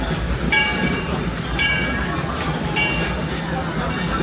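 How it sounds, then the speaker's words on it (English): A Disneyland railroad train passes close by, with a rumbling, rattling roll and repeated bright metallic squeals or whistle-like tones sounding at regular intervals. "Oh, choo-choo train."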